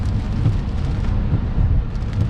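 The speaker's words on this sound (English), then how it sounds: "Because there's a little bit of rain." Steady rain drums on a moving car during a drive, a dense, continuous wash of noise with low rumble from the road and engine, close and unbroken with no talk.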